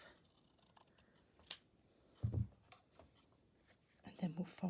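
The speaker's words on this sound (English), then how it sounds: "So let's just cut this bit off." Fabric being cut with scissors for a stitching project, heard as a few close, quiet snips and crunches in a hushed room, with soft speech nearby.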